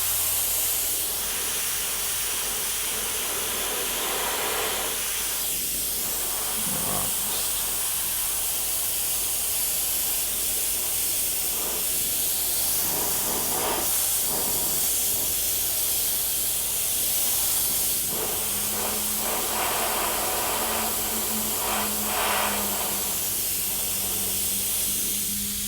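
Airbrush spraying cerulean blue paint over the white underpainting of a three-headed dragon, with some overspray onto a rock section. A steady, close airy hiss runs throughout with slight pulsing changes, and no talking.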